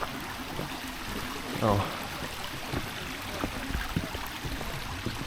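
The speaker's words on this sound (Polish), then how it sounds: "I tu taki nurcik wodny, gdzieś sobie ta woda tam płynie dalej." A small woodland stream trickles and flows steadily in Haw Park Wood near Cold Hiendley Reservoir, England, a soft continuous wash beneath people talking, with a brief louder splash near the start.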